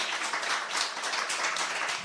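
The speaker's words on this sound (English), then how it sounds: "Let's give a round of applause for Beryl" A festival launch crowd applauds for Beryl, a dense, even roar of many hands clapping at once, sustained without a break and with no voices on top.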